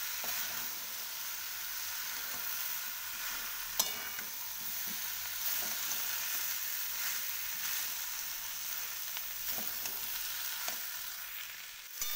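Vegetables and spices for an aloo, cauliflower and paneer sesame-masala curry sizzle steadily in a pan, with a spatula stirring through them and a few sharp scraping knocks, continuous and close with no talking.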